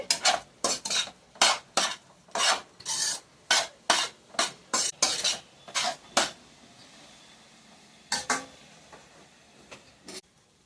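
Egg fried rice with a pinch of chili powder being stirred in a pan, heard as about a dozen sharp, rhythmic scrapes of a metal spoon against the pan, then a pause and a few more strokes near the end.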